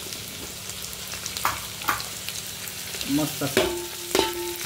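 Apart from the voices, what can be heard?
onion, garlic, ginger and green chili frying in a pan for biryani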